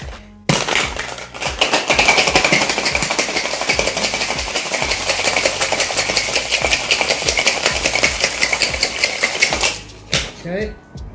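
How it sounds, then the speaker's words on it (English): Ice cubes rattle hard inside a cocktail shaker during a vigorous hard shake for a Long Island iced tea, a loud, dense, steady metallic-icy clatter lasting about nine seconds before it stops abruptly. "So for this one, I'm gonna go for a hard shake."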